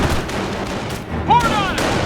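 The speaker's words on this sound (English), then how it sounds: "Base is under enemy fire." Gunfire in the video game Company of Heroes, rapid bursts of shots mixed with soldiers shouting over the combat, loud and dense throughout.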